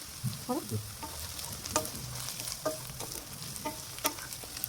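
Onions frying in hot oil for a chicken dish, a crackling sizzle broken by sharp pops and scraping stirs at an irregular pace, close but moderately quiet.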